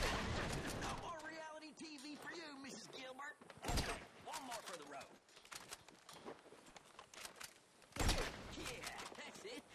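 Gunfire in Grand Theft Auto V sounds in a few sharp broadband bursts, near and loud, mixed under steady game voices and shouting talk over most of the stretch.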